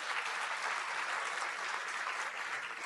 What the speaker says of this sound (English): Please give a warm round of applause to the students.